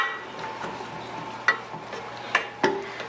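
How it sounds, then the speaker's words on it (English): Ground beef and rice being stirred in a pot, a soft continuous scraping and shuffling with a few sharper spoon knocks against the pot, heard close and alone. "I'm mixing the ground beef in the pot now"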